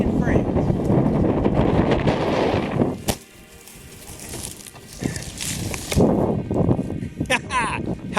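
Strong February wind gusts sweep a forest trail in Hoosier National Forest, roaring and buffeting the microphone loudly, easing to a quieter lull midway, then surging back in rough, uneven bursts.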